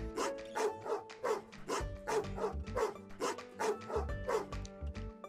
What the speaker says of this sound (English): That's Milo barking at us